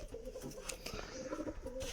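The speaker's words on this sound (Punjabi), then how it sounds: "ਅੱਜ ਆਪਾਂ ਨਵੇਂ ਕਬੂਤਰ ਵੀ ਲੈ ਕੇ ਆਉਣੇ ਆ" Pigeons coo in low, soft repeated phrases at close range, with newly brought adult and baby pigeons kept together; the cooing runs steadily throughout with no talking.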